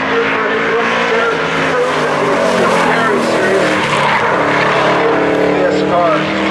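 A street stock race car driven at speed around a speedway, engine roaring loud and steady with tire noise, a voice talking over it throughout.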